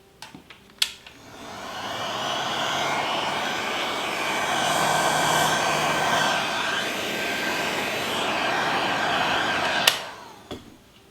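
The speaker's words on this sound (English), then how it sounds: "So what I'm going to do is use my heat gun just to warm up my mold slightly." Heat gun warming a floral pillar candle mold, switched on after a click and blowing a steady, close whooshing roar for about nine seconds before clicking off.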